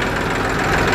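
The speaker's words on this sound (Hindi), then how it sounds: "इस ट्रैक्टर के फायरिंग देख लीजिए, बिल्कुल ही शेर जैसा दहाड़ता है।" Massey Ferguson 246 tractor, a 2023 model, running loudly and steadily after a self-start, its diesel engine giving a dense, continuous low rumble with a knocking, firing texture close by and no voices.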